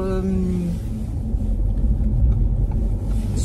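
Steady low rumble inside a moving car, the engine droning and road noise constant, with a brief tonal whine at the start.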